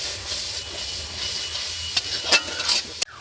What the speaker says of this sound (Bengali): এবার দিয়ে দেবো একটু পোস্ত বাটা, এটাকেও ভালো করে নাড়াচাড়া করে মিশিয়ে নেব।